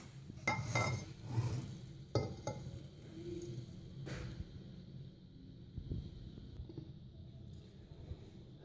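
A ground mix of eggs, sugar and oil for a sponge cake being poured and scraped into a bowl, with clinks and taps of a utensil against the container, loudest early on, then quieter handling.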